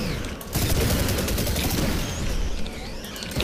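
Shotgun blasts and heavy gunfire in The Chronicles of Riddick: Escape from Butcher Bay, a dense, loud, booming barrage of overlapping shots with no talk.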